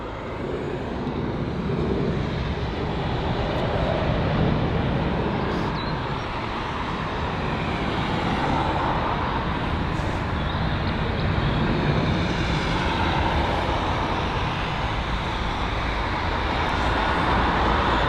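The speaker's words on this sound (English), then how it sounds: "So the Austrian A320 Neo beginning its pushback now." A steady, loud roar of aircraft engines and airport ground noise fills the air as an Austrian Airlines Airbus A320neo is pushed back at London Heathrow, unbroken and without talk.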